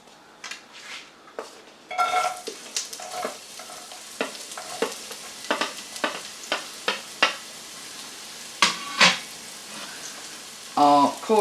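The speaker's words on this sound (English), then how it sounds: "what we've got here is some olive oil that's just heating up nicely, and then we're going to add in our onions" Chopped onions dropped into heated olive oil in a pan burst into a loud, close sizzle that keeps going, with stirring and the scrape and clink of a utensil against the pan.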